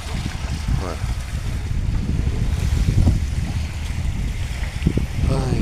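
Strong wind buffets a small fishing boat at sea, a steady loud roar of gusts and wind noise on the microphone with water washing beneath, continuous throughout with no clear pauses.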